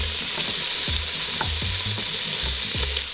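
Bacon frying and rendering its fat in a HexClad pot, a loud steady sizzle with repeated scraping stirs, close up and without talk.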